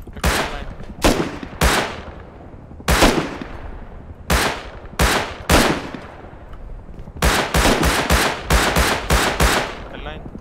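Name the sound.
gunfire at a helicopter in a video game (Rust-like survival)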